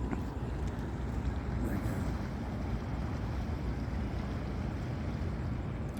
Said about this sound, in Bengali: জাহাজ,